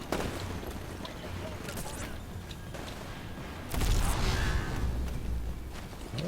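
Gunfire crackles through a multiplayer match of the Titanfall beta in Attrition mode, a steady spread of distant shots with a louder burst near the middle, while a player talks over it.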